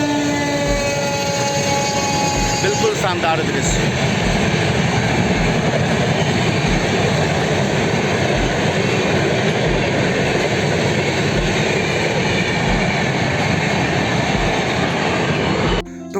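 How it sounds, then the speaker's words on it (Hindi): An Indian Railways train rumbles past close by on the Jharsuguda to Bagdehi route, a loud, steady roar that lasts throughout, with someone briefly speaking near the start. "ये देखिए इधर से हमारा ट्रेन भारतीय रेल गुजरता हुआ"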